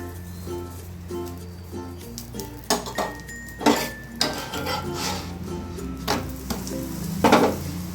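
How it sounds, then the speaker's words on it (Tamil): A pan clinks and scrapes softly while ghee is spread over an aloo paratha cooking on it, with irregular metallic taps and a faint sizzle underneath. "இப்போ இதுக்கு லைட்டாக கீ தடவிடலாங்க."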